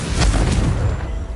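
A single Confringo blast spell in a video game lands as a loud, deep, rumbling burst of noise that swells quickly and fades over about a second, with no voices over it.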